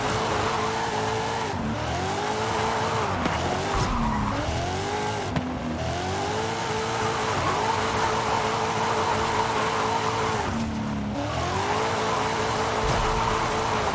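A car engine in a drifting video game revs hard in third gear, its pitch climbing and dropping repeatedly through the run alongside squealing tires, loud and continuous with no talking.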